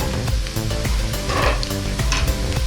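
Ingredients for aloo matar shorba, a potato and pea soup, lightly frying in a pan: a steady close sizzle with scraping stir strokes and a few clinks of a utensil against the pan, no talking.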